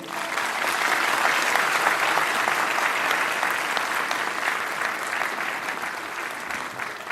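Steady, dense applause from a large audience at a formal Christmas Day event in Nepal, holding at an even level throughout with no speech over it.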